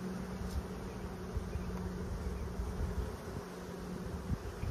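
Honeybee colony humming steadily at an open hive during frame handling, a dense continuous drone of many bees close by with no talking.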